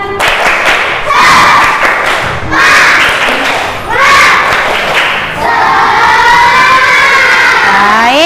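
Classroom of children doing rhythmic spirit clapping with their teacher, loud patterned claps and chanting voices in bursts, ending in a drawn-out rising group shout.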